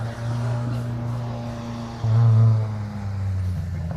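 Ford Fiesta race car on a circuit, a steady close engine drone that swells louder for a moment as it passes, then settles back to a constant hum.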